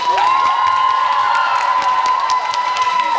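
A loud crowd cheers and claps together in an indoor hall at a children's camp opening ceremony, dense applause with whoops filling the space, steady throughout with a high sustained tone running beneath.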